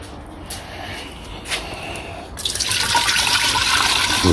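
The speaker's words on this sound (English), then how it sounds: "So I'm going to pour the solution" Silver recovery solution is poured into a large jar, starting as a faint trickle and building after a couple of seconds into a steady, loud splashing pour that continues to the end.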